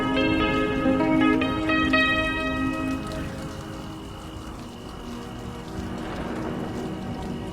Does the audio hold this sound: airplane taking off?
no